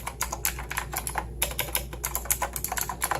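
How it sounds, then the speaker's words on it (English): Rapid clicky keystrokes from a Razer BlackWidow Tournament Edition Chroma mechanical gaming keyboard, with sharp, close, uneven taps over a steady low hum and no voices. "definitely mechanical keyboard. You can hear that."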